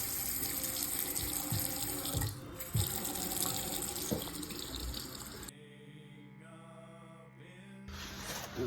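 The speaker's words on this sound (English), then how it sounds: "we're going to open the faucet," Water rushes steadily from a faucet opened after the main valve is shut off to release pressure, a hissing, splashing flow that drops off partway through and then returns in short bursts.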